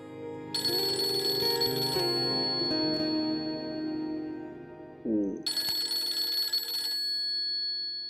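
An electronic phone ringtone sounds in two bursts separated by a pause, moderately loud, over a low background hum and faint indistinct voices.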